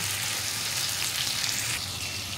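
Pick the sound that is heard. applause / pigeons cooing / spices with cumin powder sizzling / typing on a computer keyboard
spices with cumin powder sizzling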